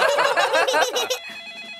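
A cartoon telephone rings with a bright, rapid trilling bell in several quick bursts, loud and near, then cuts off into a faint tail.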